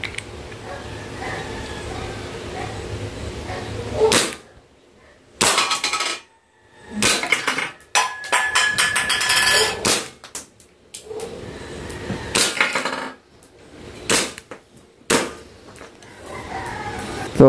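Airsoft Hi-Capa 5.1R pistol being test fired, a series of sharp, loud cracks and mechanical clacks scattered irregularly, some close together, separated by short quiet gaps.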